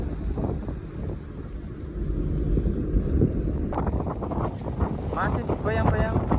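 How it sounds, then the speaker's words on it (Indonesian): Strong wind buffets the microphone aboard a speedboat at night, mixed with a loud engine and water rush, and a voice speaks briefly toward the end. "Masih dibayang-bayang pakai speedboat dengan suasana angin yang cukup kencang ini."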